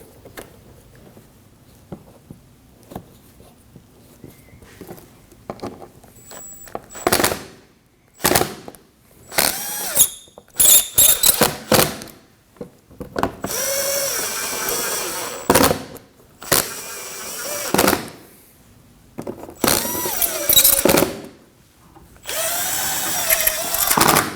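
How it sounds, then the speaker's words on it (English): Screws being power-driven into a grille mounting bracket on a 2015-2024 Ford Edge, with loud whirring bursts of varying length, separated by quiet pauses and occasional ratcheting clicks. "let's get a couple of the screws started in to hold it up, and then I get the rest in"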